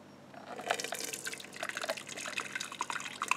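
Gravy pours from a fat separator released by pressing its red trigger, a close, steady liquid trickle with small bubbly drips and glugs, running alone without talk.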